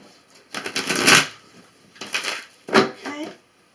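A tarot deck is shuffled by hand in three bursts of riffling card noise, close and crisp, with short pauses between them and no talking.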